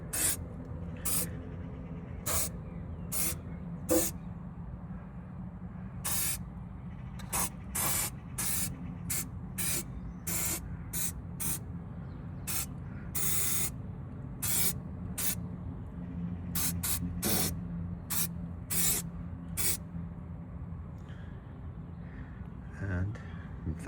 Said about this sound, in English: I'm just going to spray that over.